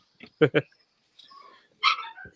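A dog in a kitchen lets out two quick, sharp barks, then a thin whimpering whine, with people talking nearby.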